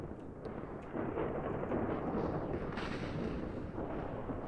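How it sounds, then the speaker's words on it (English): A deep, rumbling video game explosion in a Minecraft map blasts and swells into a sustained roar, with low booming texture lingering for several seconds. "That sounded like an explosion?"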